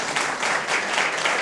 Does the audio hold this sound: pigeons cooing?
no